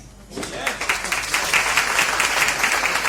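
Audience applause at an RCM meeting in a hall: a crowd bursts into loud, sustained clapping that quickly builds and holds steady.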